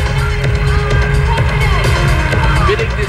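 A large outdoor crowd at the National Day Parade cheers and applauds: a dense, continuous roar of clapping and voices with scattered whoops throughout.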